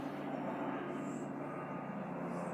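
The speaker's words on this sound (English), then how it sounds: "The airplane is passing again." A fixed-wing airplane drones steadily overhead, a continuous low engine rumble holding at even loudness throughout with no voices.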